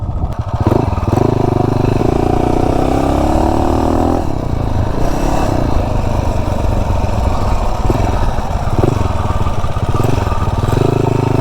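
An MM212 mini bike fitted with a custom intake and dirt bike exhaust cruises up a street, its engine droning loud and close with a steady raspy buzz that rises and dips in pitch as the rider shifts and eases the throttle.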